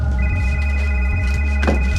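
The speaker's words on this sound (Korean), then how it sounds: "전화벨 소리가 들려오기 시작하죠" A telephone bell rings in a hospital director's office in a horror game, a steady sustained electronic ring with bright tones, loud and close over a heavy low droning background.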